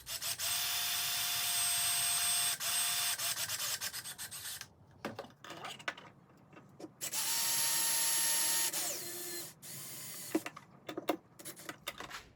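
Small screws being driven into a 3D printed TRX4 stand, bursts of high whirring and rubbing with brief clicks and knocks in between, close and fairly quiet.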